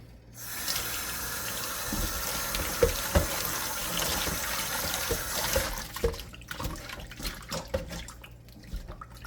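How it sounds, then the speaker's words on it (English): Tap water runs hard into a sink as pork is washed in vinegar and water, a steady gushing stream with clattering handling knocks, then the flow stops and leaves scattered drips and clunks. "So now we're gonna wash our pork with some vinegar and some water."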